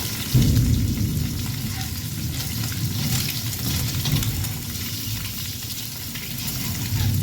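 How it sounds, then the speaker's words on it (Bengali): Eggs fry in hot mustard oil for a malai egg dish, giving a steady, loud, close sizzle that crackles continuously without pause. "আরও কয়েক সেকেন্ড ভেজে নেব"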